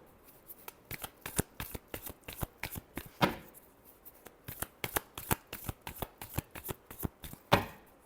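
Tarot cards being shuffled by hand in a steady run of crisp riffling snaps and slaps, close and alone, with two louder flurries partway through and near the end.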